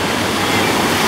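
Big ocean waves at Waikiki beach in Hawaii, a loud, close, dense roar of crashing surf that fills the short stretch without pause.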